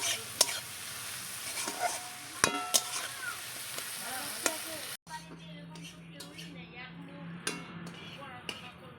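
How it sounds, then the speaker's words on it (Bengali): Onion, capsicum and green chili frying with salt in a wok, a steady close sizzle broken by sharp metal clinks and scrapes of stirring; the sizzle shifts and deepens partway through. "এবার লবণ দিয়ে ভালো করে ভেজে নেব।"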